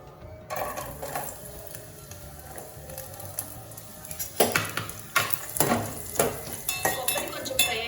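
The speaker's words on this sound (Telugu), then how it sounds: "ఇప్పుడు మిగిలిన నెయ్యిలో కొబ్బరి వేసుకొని ఫ్రై చేసుకోవాలి." Grated coconut frying in ghee in a pan, a steady close sizzle with stirring scrapes and a few clinks of a utensil against the pan.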